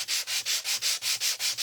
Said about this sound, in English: So I'm going to sand right here